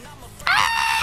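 Opila, the bird character in the video game Garten of BanBan 3, lets out a sudden shrill screech that holds loud and steady for about half a second after a brief lead-in.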